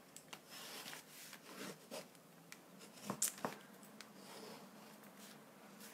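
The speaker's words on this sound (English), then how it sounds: "if we fold this base with our bone folder" Paper base being creased with a bone folder at a craft table, soft scraping and rubbing strokes in short bursts, close and quiet, with a couple of sharper taps midway.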